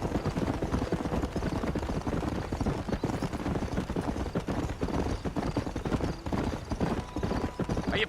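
Rhythmic hoofbeats of a horse galloping across open ground in the Red Dead Redemption video game, steady and close throughout, with a faint whinny and game ambience underneath.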